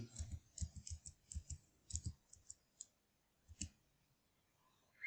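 Computer mouse clicking while working in Microsoft Word, a quick run of sharp clicks in small bursts, fairly close and quiet, then a pause and a few more clicks.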